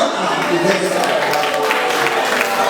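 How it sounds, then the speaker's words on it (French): A congregation at a Catholic mass for consecrated religious in Boma applauds, a thick continuous wash of clapping with voices and chatter mingled in, loud and close. "On va applaudir."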